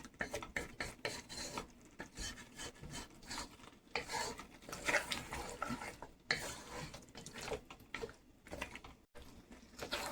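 Lamb chops stirred through a thick masala gravy in a pan, with steady scraping and rubbing strokes and a soft sizzle running throughout, close and continuous with no talking.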